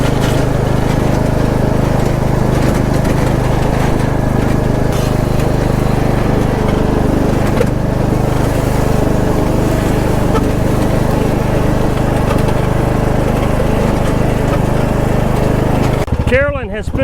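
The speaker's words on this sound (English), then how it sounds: "I've always struggled with lawnmowers starting, but this one never fails." A John Deere lawn mower engine runs steadily and loud up close, a constant droning hum throughout, with a brief change in tone near the end.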